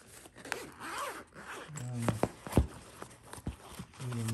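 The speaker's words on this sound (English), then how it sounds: "A nice zipper, and inside is what we have here." A zipper on the case of an Etekcity MSRC600 digital clamp meter is pulled open in several close, rasping strokes with soft handling noises between them.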